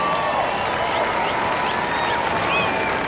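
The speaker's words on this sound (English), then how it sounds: "you've probably heard the big cheer" Large outdoor crowd cheering and applauding on Henman's Hill at Wimbledon, a steady dense roar with scattered whistles and shouts held at even loudness throughout.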